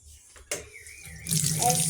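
Water runs from a tap while food is washed, starting softly, then gushing louder and steadily into the sink over the last half.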